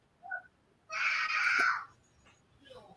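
A child screams in the background, first with a short cry and then with a sustained, shrill wail lasting about a second, then a fainter cry, all at moderate distance over a low hum.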